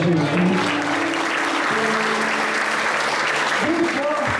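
A church congregation applauds during an evangelical service, loud sustained clapping from the crowd filling the room while a voice talks or sings over it and sustained organ or keyboard tones sound underneath.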